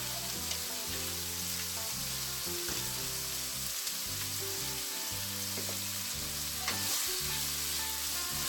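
Pork frying in a pan for sotanghon guisado, seasoned with salt and pepper, sizzling steadily and close with a constant crackle, with occasional stirring scrapes and clinks over the top and no talk.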